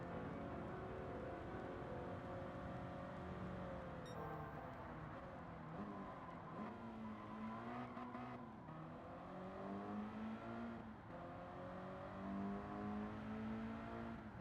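A car engine drones steadily and close throughout, its pitch climbing and dipping as it accelerates and shifts, with a smooth continuous whir underneath.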